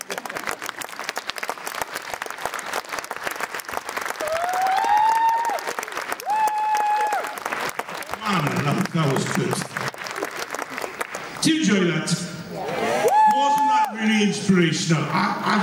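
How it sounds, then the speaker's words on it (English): Applause from an International Women's Day audience continues under someone speaking over it, with bursts of crowd noise and cheering rising and falling, fairly loud and close. "Keep clapping."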